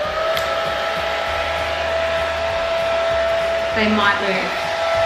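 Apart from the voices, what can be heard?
hair dryer running on low setting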